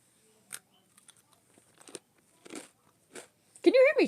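A person chewing and biting into food close to the mic, a few separate crunchy bites spread across the moment, before a voice starts speaking at the end.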